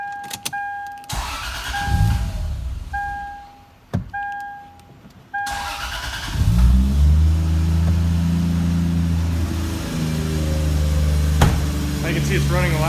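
A Lexus GS350 with a 1JZ engine swap cranks with warning chimes, then idles and revs up smoothly and loudly, the engine note swelling and holding near the microphone as someone speaks.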